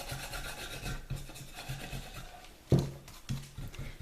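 Metallic gold rub worked by hand onto sculpted rock surfaces, heard as a soft, steady rasping and scuffing with a couple of sharper knocks, close and fairly quiet.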